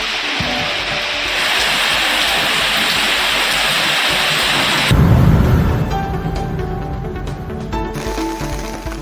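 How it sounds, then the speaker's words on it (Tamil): Heavy rain pours steadily in the Maduranthakam area, a dense, loud wash of drops on surfaces that swells into a heavier burst midway and continues unbroken, with no distinct thunder. "மதுராந்தகம் சுற்றுவட்டார பகுதிகளில் கனமழை பெய்தது"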